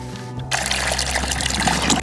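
Fresh water pours into a chicken waterer on a farm in sub-zero winter cold, a sudden steady splashing stream that starts abruptly and runs loud and close.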